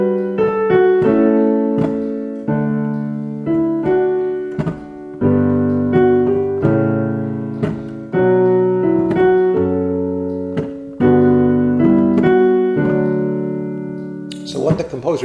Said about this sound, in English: The Meinrad tone 5 has 6 parts to it